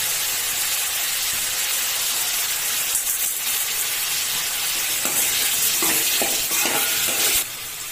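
Onion, garlic and chopped tomato sautéing in a pan for fish curry, a steady sizzle and hiss with intermittent scraping stirs toward the end.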